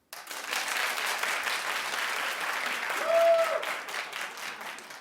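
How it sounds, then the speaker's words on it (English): Studio audience clapping on a daytime talk show, a brisk burst of many hands that swells briefly midway before easing, with a faint tonal sound briefly showing through. "Clap if you still need him to say something"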